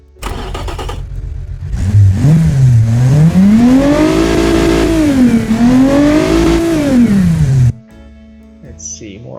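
A DMC DeLorean V6 in the game Automation revs loudly from idle, climbing and falling in smooth repeated sweeps toward high RPM before cutting off abruptly.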